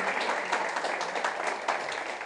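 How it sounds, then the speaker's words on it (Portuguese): An audience applauds at a youth gathering, steady dense clapping throughout at moderate loudness, with no voices over it. "E gostaria que vocês aplaudissem a vocês mesmos"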